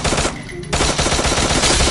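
Rapid automatic gunfire from a mobile shooter game during a squad shootout, loud bursts with a brief lull before the firing resumes steadily to the end.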